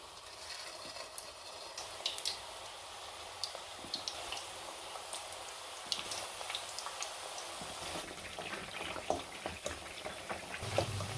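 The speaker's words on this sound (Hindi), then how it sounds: "ताकि ये जो कोफ्ते जब फ्राई हों तो वो आहिस्ता आहिस्ता से फ्राई हो और अंदर तक भी कुक हो" Potato koftas deep-frying in oil over a medium flame, a soft, steady crackle and bubbling hiss with fine scattered pops, fairly quiet and continuous.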